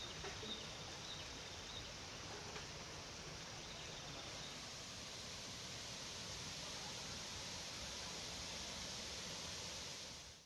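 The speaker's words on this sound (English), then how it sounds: "we're at our next destination, which is this beautiful waterfall up in the mountains of Bali" A waterfall high in the mountains of Bali roars as a dense, steady rush of broadband water noise, loud and unbroken throughout, with no voices.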